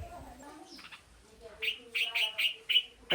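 Bulbul chicks give about five quick, high chirps in an uneven rhythm, close by, after some soft talking.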